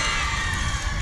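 Crowd noise at a state championship high school softball game, a steady loud roar of cheering and shouting from the stands across the whole moment.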